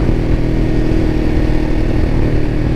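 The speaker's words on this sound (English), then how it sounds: "And it's like instant acceleration, and it just sounds so good." A Ducati Diavel motorcycle engine pulls hard under acceleration, a loud, steady, deep rumbling drone heard up close for a few seconds with no voices.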